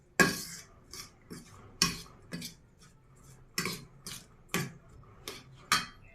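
Omelette ingredients are mixed in a bowl with a utensil, giving a regular series of crisp clinks and taps roughly every half second, close-up and quiet with no talking.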